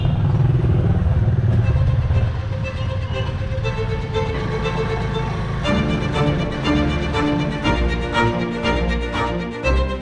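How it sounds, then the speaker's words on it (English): A small tuk-tuk engine drones steadily throughout, with rattling clatter and road noise as it rides along in the Philippines, loud and close. "We're starting our adventure in one of these cool looking tuk-tuks"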